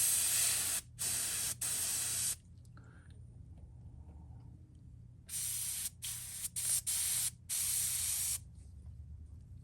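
Airbrush gun spraying paint onto a fishing lure, with close hissing bursts that start and stop repeatedly, several short blasts separated by quiet gaps.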